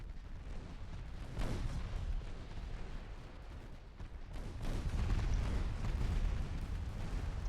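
Heavy naval gunfire in the warship battle game Ultimate Admiral: Dreadnoughts, a dense, continuous rumble of booming cannon blasts that swells louder in the second half, with no voices.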